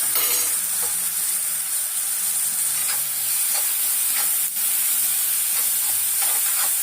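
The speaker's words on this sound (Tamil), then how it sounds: "இப்போ எண்ணெய் காஞ்ச உடனே நம்ம வந்து வெங்காயத்தை போட்டு பண்ணிட்டோம்" Onions frying in hot oil in a home kitchen, a continuous broadband sizzle and hiss with faint stirring scrapes, close and steady with no talking.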